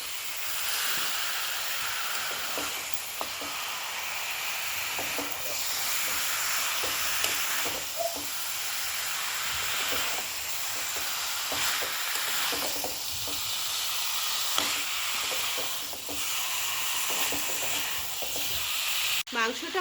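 Washed, drained chicken pieces sizzle and fry in a cooked spice paste in a pan, a steady broad hiss with occasional stirring clatters throughout, close and continuous.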